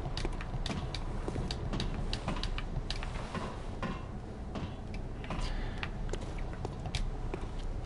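An elevator mechanism in the video game Bloodborne creaks and ticks steadily, with a dense run of small mechanical clicks and groans over a constant low rumble, and no voices.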